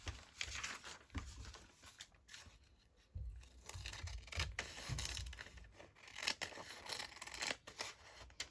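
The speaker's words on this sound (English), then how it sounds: "I'm just going to cut that off." Scissors snip through a mixed media stitching tag with glue on it, a series of close, crisp cuts with crinkling and rustling of the material between snips.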